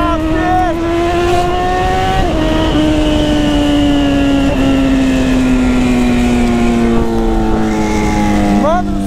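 A Honda CB1000 motorcycle engine revs and accelerates steadily, its pitch climbing through gear shifts, loud and close over continuous road noise.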